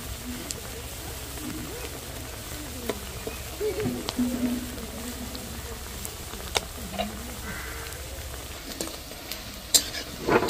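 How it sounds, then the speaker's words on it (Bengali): Sabudana pakoras fry gently in oil on low heat, a soft continuous sizzle with scattered small pops and faint clinks, steady and fairly quiet throughout. "আস্তে আস্তে কিন্তু অল্প আঁচে ভাজতে হবে, তাহলে ভেতর পর্যন্ত ঠিকঠাক ভাজা হবে।"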